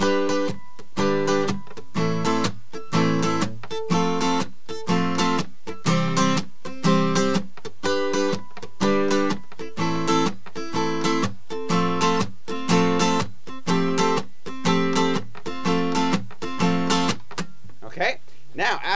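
Rhythmic acoustic guitar strumming of a song's chords, with bright, evenly spaced strokes repeating steadily and close up, then a brief trailing scrape at the end.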